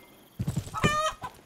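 Chickens clucking in a farming video game, a quick run of soft clucks followed by a louder, drawn-out cackle and one brief final cluck, close and alone with no talk.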